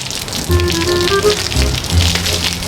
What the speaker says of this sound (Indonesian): Udah hujan-hujan.